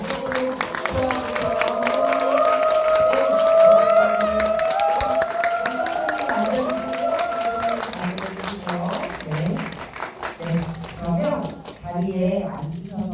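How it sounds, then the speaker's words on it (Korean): An audience at a Korean film screening and guest talk cheers and claps as the director and an actress come on stage. The mixed crowd noise runs continuously, with voices and tonal sounds rising over it before it fades out. "뜨거운 박수로 맞아주세요"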